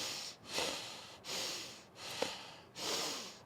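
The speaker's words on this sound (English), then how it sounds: "There's bellows breath" Strong bellows breathing from a yoga practice comes in four forceful, rhythmic breath cycles, each a loud airy rush through the nose separated by brief pauses, close and alone.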